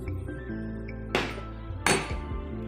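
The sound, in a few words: spoon clinking while mixing flour in a pan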